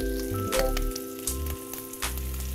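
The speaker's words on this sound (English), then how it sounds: "then you will cook your fish, meunière, on both sides" Trout fillet frying meunière-style in a pan after being floured, a steady close sizzle with crackling pops, accompanied by a continuous low background hum.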